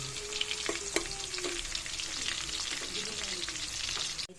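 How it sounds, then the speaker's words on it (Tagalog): Chopped garlic sizzles steadily in a hot pan with oil, a dense hiss with a few clinks of a utensil stirring, close and fairly loud, no voices. "Mainit na yung kawali, lagay ko na yung bawang."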